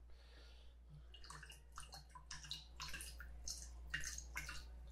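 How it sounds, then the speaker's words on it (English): A whole bottle of Underberg herbal bitters poured into a cocktail, heard as faint, uneven glugging and splashing liquid over a low steady hum, with no talk. "Now we're going to throw in our Unterberg, a whole bottle of this."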